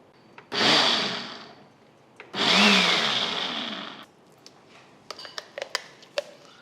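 A mixer grinder coarsely grinding dal in two loud, whirring pulses of about two seconds each, followed by a few light clinks and taps of the jar.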